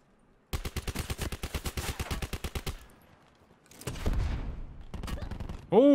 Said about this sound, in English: Oh, I just shot him through a wall.